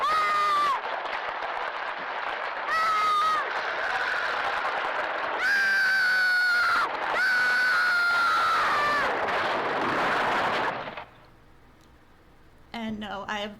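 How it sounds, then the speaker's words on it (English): A boy's harrowing scream as he falls to his death in the 1977 film Apaches rings out in long, loud, wavering cries with short breaks, then cuts off, leaving a quieter tail before a brief final sound. "with a harrowing scream, he plummets to his death"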